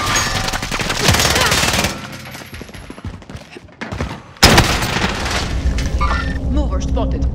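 Rapid gunfire and booming shots from the Warzone video game, with dense bursts of fire, a brief lull, then a sharp loud blast and continuing shots under in-game voice callouts.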